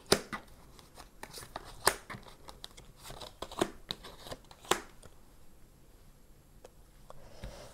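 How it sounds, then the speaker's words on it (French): Tarot cards shuffled by hand before a spread of nine is drawn, close-up crisp riffling and slapping in uneven bursts that fade into quieter handling. "Allez, on va aller tirer 9 cartes."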